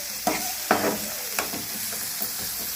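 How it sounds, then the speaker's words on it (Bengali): Ginger garlic paste, boiled cauliflower and potato and peas hitting hot oil in a pan, giving a steady close sizzle with a few sharp stirring scrapes spaced through it, no voices. "একটু আদা রসুন বাটা দিয়ে দিলাম, আর সেদ্ধ করা ফুলকপি আলুটা এর মধ্যে দিয়ে দিলাম।"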